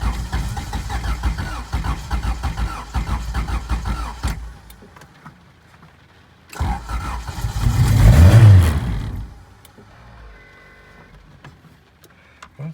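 A GSR build engine, run with the gas cap left off, cranks and runs roughly, cuts to near silence, then catches again with a loud low rev that swells and dies away within a couple of seconds.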